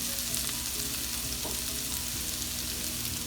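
Home fried potatoes sizzle steadily in a pan, a dense, even frying hiss with a brief faint knock of movement midway.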